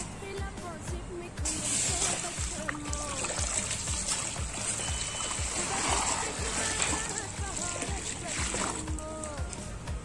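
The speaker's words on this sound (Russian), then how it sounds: "Теперь туда же добавляем 4 литра воды кипяченого." Four litres of boiled water pour into a kazan set over an open fire, a continuous splashing, trickling rush that runs steadily throughout at close range.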